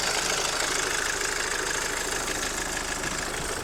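A 2.2 turbodiesel Hyundai Santa Fe engine idles steadily and close by, with a continuous rough, knocking rumble that stays constant throughout.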